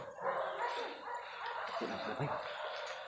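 Dogs bark in short bursts at a medium distance while people shout and talk excitedly over them in a noisy outdoor setting.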